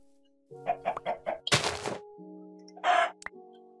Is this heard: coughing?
no